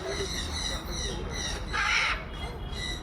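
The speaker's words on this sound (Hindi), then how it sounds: "इनके चहकने की आवाज़ आ रही है।" Small birds chirp and call at a bird park aviary in Chandigarh, with a busy, overlapping chorus of bird voices and a louder squawk near the middle, set against steady ambient noise.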